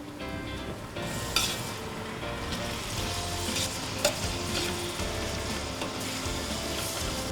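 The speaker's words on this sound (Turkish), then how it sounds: "10 adet rendelediğim havucu atacağım. Bunları da biraz daha yumuşat, yumuşatana kadar kavuracağım." Grated carrots and caramelized onions sauté and sizzle steadily in a pan while being stirred, with occasional scraping clinks against the pan, continuous and close.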